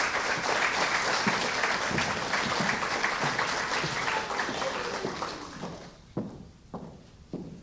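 Audience applause at a school FFA awards banquet, a loud dense round of clapping that gradually thins out and fades, ending in a few scattered isolated claps and thuds.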